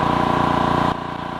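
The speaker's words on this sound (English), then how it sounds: "We're going to turn the compressor on." An Air Venturi 4500 PSI (300 bar) high-pressure air compressor runs with a steady mechanical hum and pulsing rhythm, then drops to a quieter running tone partway through, with no voices.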